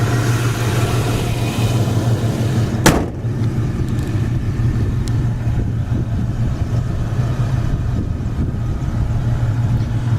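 A 1987 Ford Mustang 5.0 GT V8 idling steadily with a low, even rumble, near and loud, with one sharp click partway through and no voices.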